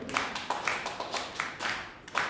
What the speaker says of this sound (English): This clap is good.